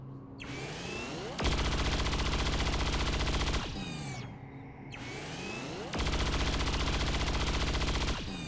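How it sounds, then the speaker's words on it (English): Two long bursts of rapid automatic gunfire from a soldier in the strategy game XCOM 2, each a dense loud rattle lasting about two seconds, with shorter whooshing effects leading into each burst. "Rapid fire."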